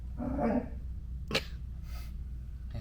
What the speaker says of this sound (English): She has to bark or play or do something.